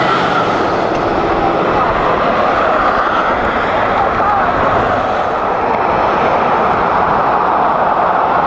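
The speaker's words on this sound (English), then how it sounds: "This plane is one of the biggest plane in the world." Steady, loud broadband roar of a very large airplane heard outdoors in South Florida, continuous and unbroken throughout with no talk over it.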